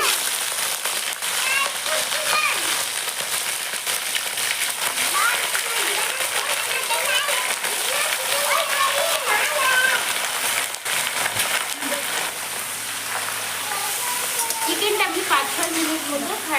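Chicken, a village-style cockerel cooked with raw papaya and potato, goes into a hot pan and fries with a continuous rain-like sizzle and spatter throughout, while a person talks over it.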